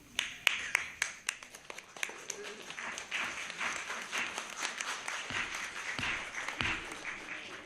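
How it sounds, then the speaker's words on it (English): An audience at a Salem, Oregon city council meeting breaks into applause, with scattered sharp claps at first that thicken into a steady round of clapping, faint and somewhat distant. "If there's another burst of applause, we will recess."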